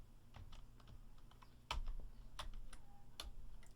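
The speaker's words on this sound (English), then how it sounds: "He says randomly stabbing keys trying to find that." Keys on a Commodore 64 keyboard are pressed in scattered, irregular clacks, some single and some in quick pairs, close and moderately loud over a steady low hum, with no voices.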